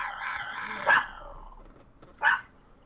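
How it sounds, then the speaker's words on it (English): A small Yorkipoo dog gives two sharp, separate barks about a second apart, fairly close, over a quiet room with faint background sound. "She's a sweetheart when she's not barking at everybody."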